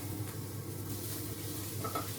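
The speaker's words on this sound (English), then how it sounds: "I'm just frying off the onions and carrots just until they're a little bit softer." Chopped onions and carrots sizzle and fry in a pan, a steady crackling hiss with faint stirring scrapes throughout, close by and with no talk.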